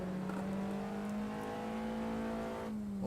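Race car engine in Assetto Corsa, droning at a steady high pitch as the throttle is held on, with a faint tyre noise and a brief rise near the end; no voices.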